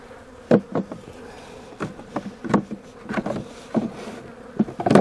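Honey bees from a tiny, low-population swarm in a hive with wax moth larvae, a soft steady buzz with close clicks and knocks of hive handling, no talk.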